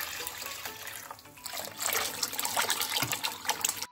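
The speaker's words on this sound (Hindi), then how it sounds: "एकटी पटे मीडियम टू हाई हिटे 8 कप पानी निये निएछि।" Eight cups of water poured into a pot on the stove, a continuous close gushing and splashing stream that grows fuller and louder as the pot fills, with no talk.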